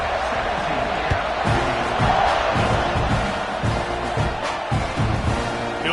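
A stadium crowd at a college football game roars steadily during a kickoff, a loud, sustained wash of cheering with scattered shouts rising from the mass.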